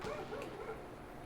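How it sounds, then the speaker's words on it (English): A neighbor's dogs bark outside, heard through a window as a short, faint burst of yapping barks at a distance. "I think my neighbor's dogs are going off. Might have to close my window if they're getting too loud."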